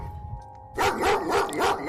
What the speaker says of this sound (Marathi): अचानक कुठेतरी पाच सहा कुत्री भोंकण्याचा आवाज तिला आला